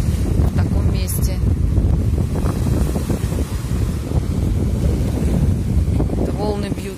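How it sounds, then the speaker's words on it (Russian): Waves break and wash against a rocky breakwater on a shallow Barcelona seafront, a loud continuous churning roar mixed with heavy wind buffeting the microphone. "Это волны бьются сюда, волнорез."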